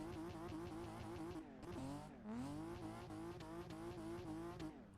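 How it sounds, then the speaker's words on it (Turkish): A BMW E36 in the racing game Assetto Corsa, driven on snow, screams at high revs with sharp dips and rises as the driver shifts and slides, plus some tire squeal, loud and continuous. "Arabanın sesi de böyle arkadaşlar."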